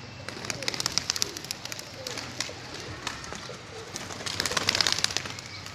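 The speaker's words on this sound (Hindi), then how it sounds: "भाई मेरे ही कबूतर उड़ रहे हैं।" Pigeons coo repeatedly nearby, soft rolling calls over faint outdoor background, with a few chirps mixed in.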